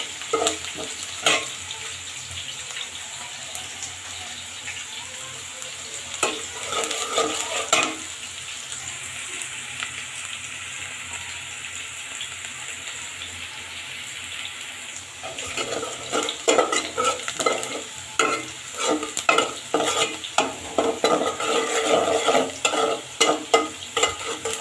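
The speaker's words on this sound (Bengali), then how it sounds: "পেঁয়াজ ভাজা হচ্ছে" Onions sizzle in hot oil in a pan, a steady frying hiss heard up close, then rhythmic stirring scrapes and clatter grow louder and more frequent in the latter half, with no speech.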